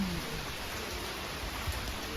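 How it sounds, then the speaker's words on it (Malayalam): Rain falls steadily at Trang An in Ninh Binh, Vietnam, a dense, even hiss with no gaps, moderately loud and continuous throughout. "നല്ല മഴയാണ്."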